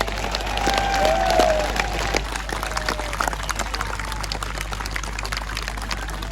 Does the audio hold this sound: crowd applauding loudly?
yes